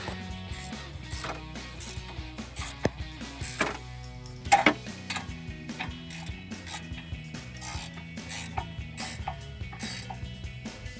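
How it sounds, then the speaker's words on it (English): A ratchet wrench tightens the bolts on a drag link to pitman arm tie rod end on a 2007–2018 Jeep Wrangler JK, with rapid clicking runs of the pawl and occasional metallic clanks, close and steady throughout. "take your 15mm wrench, tighten these 2 bolts back up here"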